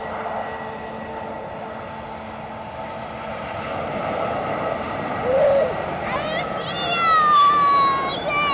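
An EasyJet airliner departing Edinburgh Airport for Geneva produces a steady, distant jet-engine roar that swells louder toward the end.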